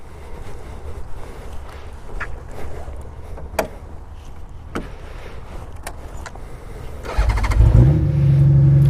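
A Honda Goldwing F6B motorcycle sits near-silent apart from a few sharp clicks, then its engine fires up close by late on and settles into a loud, steady idle rumble.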